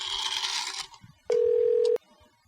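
A single telephone ring tone sounds clearly on a call, one steady buzzing ring lasting under a second, heard after a brief burst of line noise.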